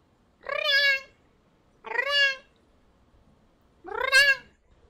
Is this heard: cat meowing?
yes